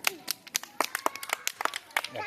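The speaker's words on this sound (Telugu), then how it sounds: "క్లాప్స్ గట్టి కొట్టండి క్లాప్స్ గట్టి కొట్టండి" Schoolchildren clapping their hands hard, a sharp and uneven run of loud claps close by, with voices calling out between them.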